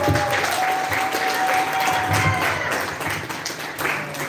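Audience applause at a meet-and-create gathering of Ghanaian YouTubers, a dense, steady wash of clapping from a sizable crowd lasting throughout, with a faint tonal whistle or feedback line running beneath it.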